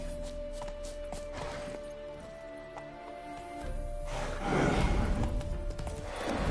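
A horse in The Witcher 3 video game trots with soft rhythmic hoof clops, faint and low, under a steady game ambience with a swell of louder movement toward the end.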